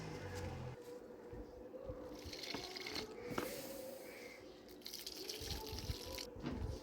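Leftover water mixed with powdered eggshell is poured onto outdoor plants, making a steady, faint splashing trickle over a constant outdoor background.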